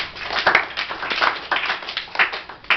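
A classroom of students claps steadily, a close, continuous rattle of many hands with uneven peaks and brief louder bursts, little talk mixed in.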